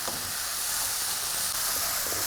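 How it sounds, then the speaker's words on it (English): Julienned carrots and chopped cabbage sauté in a pan, giving a steady, close hissing sizzle with soft stirring, heard alone. "I'm going to just saute it for around 30 seconds"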